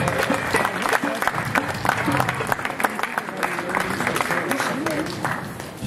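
A crowd applauds to welcome a choir at a town concert, with steady dense clapping throughout and voices murmuring underneath in a reverberant hall.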